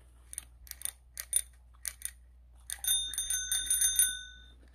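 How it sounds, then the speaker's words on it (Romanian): A new bicycle bell, a gift accessory, is flicked in a series of bright metallic dings, first separated single strikes, then a quicker run of ringing chimes that linger and fade, close and loud with no talking. "Sonerie."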